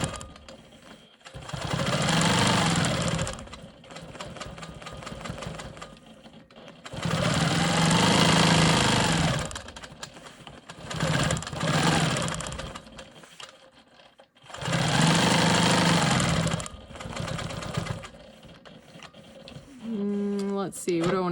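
A sewing machine stitches straight quilting lines guided by a ruler, running in several loud, steady bursts of whirring stitches. Quiet pauses fall between the bursts.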